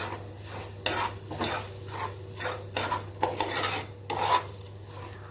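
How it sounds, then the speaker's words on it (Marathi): Lentils dry-roasting in a pan on a high flame for homemade baby food, stirred with a spoon in a run of rhythmic scraping strokes over a steady low hum. "आता आपण याला काढून घेऊयात आणि डाळीला भाजून घेऊयात."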